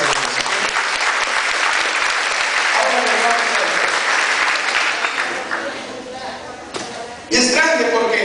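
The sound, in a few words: congregation applause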